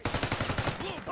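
Rapid, evenly spaced gunshots in a Call of Duty: Black Ops 6 multiplayer match, around ten sharp cracks in about a second, close and fairly quiet, ending in a brief ringing tail.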